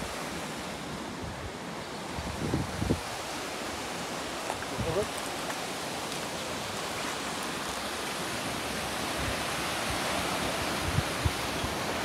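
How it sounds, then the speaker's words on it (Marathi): Swollen river after two days of rain, rushing hard and loud as a continuous broadband roar throughout, with a few faint bumps but no clear talk. "पाणी आहे बघ किती सुसाट आहे."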